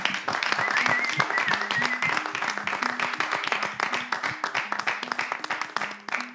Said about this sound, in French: qu'on puisse applaudir les téléspectateurs